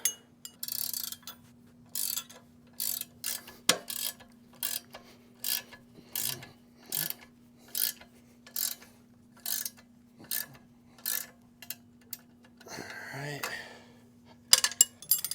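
A ratchet wrench tightens bolts on a John Deere 2653A mower, clicking in regular bursts of several pawl clicks each, close and clear over a faint steady hum, with a short muffled voice near the end.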